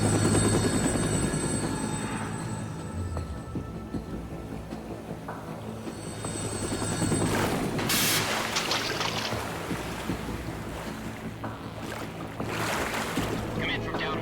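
A helicopter flies in the video game Metal Gear Solid 2, its steady rotor drone running throughout over a low ocean-like wash, with a brief louder gust midway.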